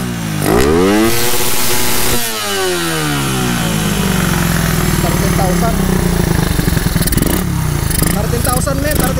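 A motorcycle engine fitted with a racing spark plug revs hard under throttle, loud and close, sweeping up and down in pitch before settling into a high, buzzing sustained rev.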